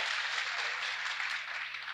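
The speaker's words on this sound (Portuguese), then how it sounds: "Vamos aplaudir, pessoal" Audience applause at a young apprentice gathering: dense, steady clapping from a crowd that holds at an even, moderate level for the whole stretch with no voices.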